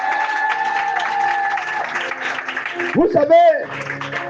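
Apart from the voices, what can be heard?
church congregation applauding to acclaim Jesus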